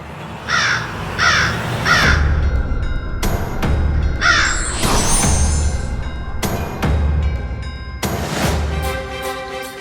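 Crow cawing in repeated harsh calls, three quick caws at first then more bursts, close and clear over a low rumbling background.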